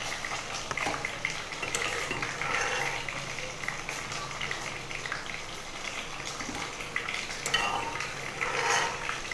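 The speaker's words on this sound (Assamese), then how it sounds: "মাছকেইটা যেতিয়ালৈকে ৰঙচুৱা নহয় তেতিয়ালৈকে আমি ফ্ৰাই কৰি থাকিম" Fish frying in a pan gives a steady, fairly soft sizzle with bursts of spattering, plus occasional light scrapes and clinks of a utensil. No one speaks.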